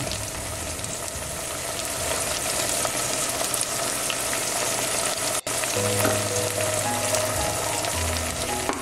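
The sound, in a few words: peppers and spices frying in a pan for attiéké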